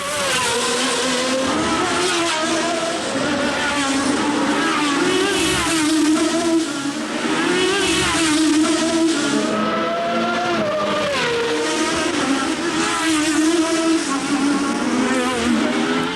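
Formula One racing cars roar around the Monaco street circuit during practice in 1983, a continuous loud wail of engines rising and falling as cars pass close by, with no talk over it.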